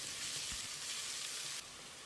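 Onions sautéing in a pan with curry leaves and a broken green chili, cooking until golden, give a steady, close, continuous sizzle with no voices over it.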